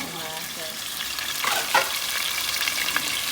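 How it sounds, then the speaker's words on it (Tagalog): Chicken breast sears in a hot pan with a loud, close sizzle, broken by a few scraping stirs in the middle. "Kailangan i-sear ang chicken till maging golden brown."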